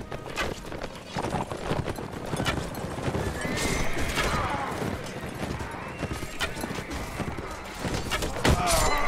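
Horses neigh and gallop in battle in Mount & Blade: Warband, with loud rapid hoofbeats, thuds and shrill whinnies mixed into a busy fight, while someone talks over the din.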